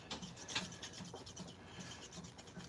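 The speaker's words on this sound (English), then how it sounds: "Sawing motion works pretty good to get through the tendons." Repeated rasping strokes of a blade sawing back and forth through tendons during butchering, a steady scraping rhythm of close, moderate strokes with no talk.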